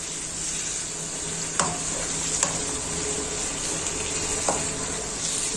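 Beef liver and kidneys sizzle steadily in a hot pan while being stirred, with occasional scraping knocks of the spoon against the pan over the constant frying hiss.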